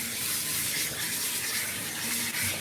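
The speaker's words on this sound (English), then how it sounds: "Alright, now let's start rinsing off the groomer's goop." Water gushing steadily from a tap to rinse thick grooming product from a long-haired cat's coat during a bath, a loud continuous splashing rush close by.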